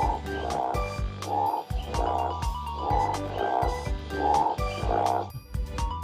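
A toy frog gives a repeated electronic croak, a rhythmic series of loud, buzzy ribbits in quick pairs, close up and without talk.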